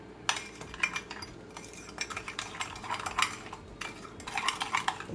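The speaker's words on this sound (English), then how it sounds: "And we're gonna mix everything up." Meat loaf ingredients with a squirt of mustard are stirred and mashed in a bowl, with close, irregular scraping and clinks of a utensil against the dish.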